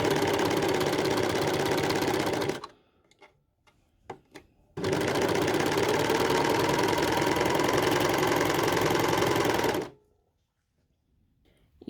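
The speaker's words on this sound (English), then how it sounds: "It's then simply a matter of starting to sew in the other direction." A serger overlocker stitches fabric while sewing a square corner: two loud, steady bursts of rapid mechanical whirring, the first about two and a half seconds and the second about five seconds, separated by a short quiet gap with faint handling clicks.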